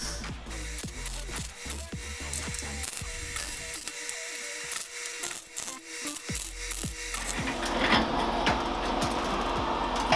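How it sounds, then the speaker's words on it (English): Welded metal brackets popping off the bottom of a DIY welding cart, a run of sharp metallic clicks and clanks at irregular intervals, close and fairly loud over a rough mechanical background. "Those are the brackets just popping off on the bottom."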